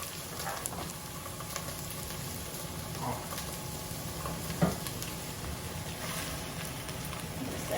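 Nopales cactus sizzling with pork in a frying pan, a steady close hiss of frying with occasional soft stirring scrapes and a faint clack, running throughout at moderate level.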